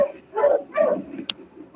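Sled dogs resting on a snowy trail give short yips and whimpering barks in a few bursts, close and fairly loud, with a brief sharp squeak between them.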